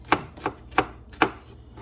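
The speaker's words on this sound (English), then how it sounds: "I'm just chopping straight down on that shallot just like that" A knife chops straight down through a shallot on a cutting board for a small dice: four crisp, evenly spaced taps, close and clear, with no talking.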